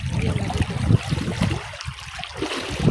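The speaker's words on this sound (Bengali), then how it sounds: "এই পানিগুলা কিন্তু একবার ডাইরেক্ট ঝর্ণা থেকে আইতেছে" Continuous rushing and gurgling of a hill stream fed directly by a waterfall, fairly close and steady, with uneven splashy surges throughout.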